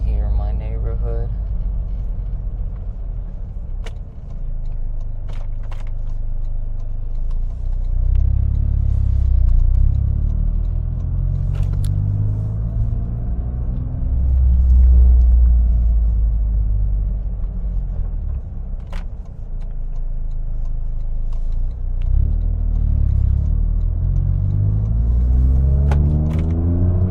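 A Toyota GR Corolla with a pitch mount rolls around a corner in a residential neighborhood. Its engine gives a steady, low, loud rumble that swells a few times as the throttle changes, and it runs continuously throughout.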